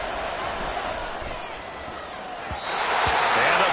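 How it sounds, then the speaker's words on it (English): A stadium crowd in a Madden football game, a steady broad roar that swells louder toward the end, with a couple of thuds and a commentator talking over it. "This crowd turning up the decibel level"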